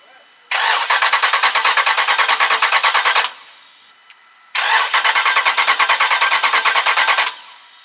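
A Jeep Grand Cherokee Trackhawk engine cranking without firing, two bursts of rapid rhythmic starter churning about three seconds each, close and loud, with a short pause between.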